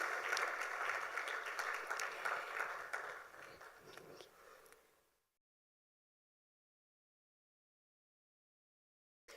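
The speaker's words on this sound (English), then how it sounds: "Let's give them a round of applause as they regain their seats." Audience applause at an Africa50 general shareholders meeting, a steady wash of clapping for about five seconds that fades out and leaves near silence.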